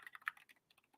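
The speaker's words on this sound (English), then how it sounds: "Typing is hard." Quick bursts of typing on a computer keyboard, close and quiet, a dozen or so light clicks in an uneven rhythm with no talk.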